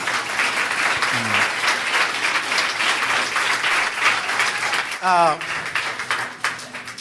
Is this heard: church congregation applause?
yes